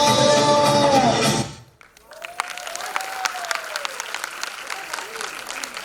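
Loud crowd applause at a women's cultural celebration in Vashi fills the first second and a half, then fades out, leaving a quieter hall with scattered sounds.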